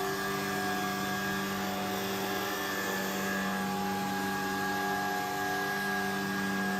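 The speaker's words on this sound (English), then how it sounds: "if you want to vacuum underneath furniture, you just go like this" Shark Vertex cordless vacuum cleaner running under furniture, a continuous steady motor whine with layered tonal hum, close and even throughout, no talking.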